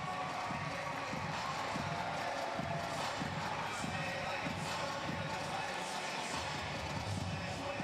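A crowd cheers and murmurs at the Bassmaster Classic fishing weigh-in on the Tennessee River, a dense steady wash of noise beneath a talking announcer.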